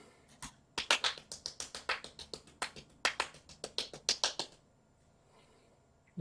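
One person claps alone during a live model-building stream, a quick, uneven run of about twenty sharp claps up close that then stops into quiet.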